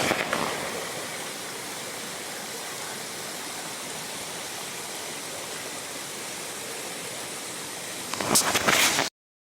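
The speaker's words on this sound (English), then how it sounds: "I love a nice slow stream in the morning." Steady flowing water rushes continuously, a soft even wash of sound close by, with a brief rustle near the end.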